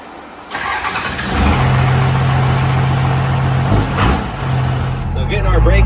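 A Cummins burnout truck engine idles while warming up, starting with a rough catch then settling into a loud, steady low drone close by, with people talking over it.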